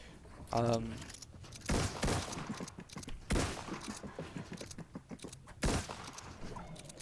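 Gunfire in the Fortnite video game, with several loud sharp bursts of shots spread across a few seconds, mixed in with game sounds and a voice talking over the action.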